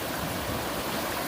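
Stream water rushes steadily through a Green Mountain Gold Trap set in a wing dam on the East Fork, a close, continuous broadband wash with no pauses.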